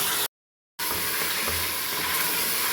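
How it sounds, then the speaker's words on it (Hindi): Chicken fries in a pan with onion, ginger and garlic, making a dense, continuous sizzling hiss that cuts out briefly near the start and then carries on loud and close, with no voices. "देखें जी 3-4 मिनट हो गए हैं चिकन को भूनते हुए अदरक लहसुन के साथ"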